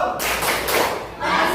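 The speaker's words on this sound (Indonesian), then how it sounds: "kasih tepuk tangan dong" A class of students clap their hands together in a classroom cheer, a dense burst of close, fairly loud claps with voices mixed in.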